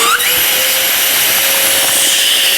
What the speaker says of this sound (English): And get the vacuum on top of the bag.